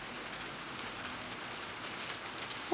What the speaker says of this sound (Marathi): गारा पडतायत अजून आज पण